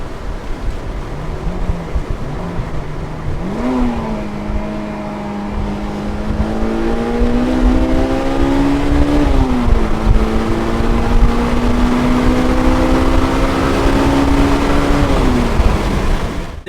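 A 2002 Honda S2000 accelerates on a track, its engine note climbing through rising revs with a brief shift dip, then holding a strong, close, sustained drone under wind and road roar.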